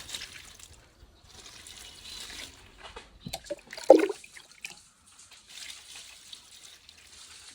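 Water poured by hand onto crop plants in a field, soft intermittent trickling and splashing with brief pauses, one sharper splash partway through, fairly quiet and close.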